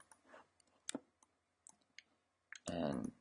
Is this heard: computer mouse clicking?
yes